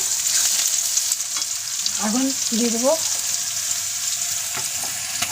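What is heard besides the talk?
onion frying in pan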